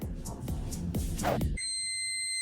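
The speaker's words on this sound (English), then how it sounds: "My buzzer is buzzing." Clattering, bumping handling noises give way to a steady, loud electronic kitchen timer buzzer tone that sounds continuously to the end.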